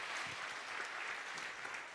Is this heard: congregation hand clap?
yes